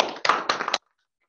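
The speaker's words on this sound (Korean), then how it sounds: "큰 박수 부탁드립니다" A short burst of audience applause at a Korean award ceremony, a few claps over less than a second, close and distinct, then cut off abruptly into silence.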